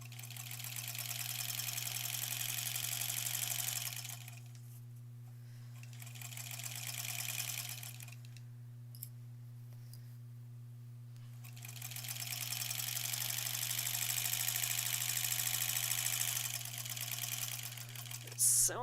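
A sewing machine stitches quilt sashing for a Granny Squares quilt, running in steady whirring bursts with quiet pauses between them over a constant low hum.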